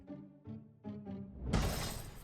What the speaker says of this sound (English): There's a crash out back, the sound of something shattering.